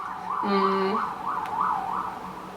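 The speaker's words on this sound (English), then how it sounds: "god damn that police siren" A police siren wails, cycling up and down at a steady pace, fairly loud and nearby, with a brief lower tone partway through.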